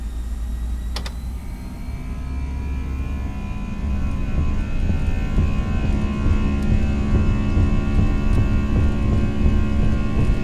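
Airbus A320 engines in X-Plane 11 roar up from a low rumble to a loud, steady takeoff thrust, with a faint click early on.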